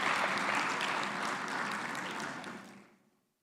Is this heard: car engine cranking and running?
no